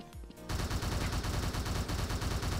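Rapid automatic gunfire in the shooter game Truy Kích, a dense, loud stream of shots that starts after a brief lull and keeps pounding without pause.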